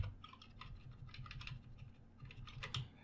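Rapid computer keyboard typing while writing Python code, a steady run of close, crisp key clicks with a low hum underneath and no voices.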